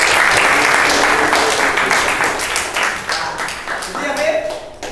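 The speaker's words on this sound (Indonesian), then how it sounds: "tepuk tangan untuk teman-teman" A class of students applauds their classmates during an athletics relay lesson, a burst of brisk clapping that gradually thins and fades out over several seconds.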